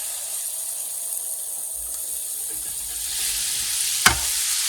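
Garlic sizzles and fries in oil in a paella pan, giving a steady hiss with scraping stirs and one sharp clack of a utensil against the pan near the end.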